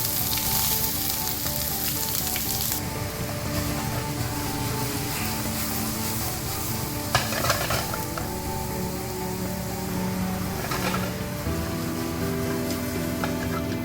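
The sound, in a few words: onions, celery and carrots frying in a hot pan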